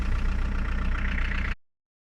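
A 2001 Volkswagen Bora with a 1.9 TDI 110 hp diesel engine idles with a steady, close, low rhythmic clatter that stops abruptly after about a second and a half.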